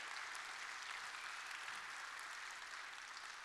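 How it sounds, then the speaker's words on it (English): A crowd claps steadily and loudly for a children's choir at a Christmas chorus concert, a dense, unbroken applause that holds evenly throughout with no voices over it. "And another big round of applause for the children's choir."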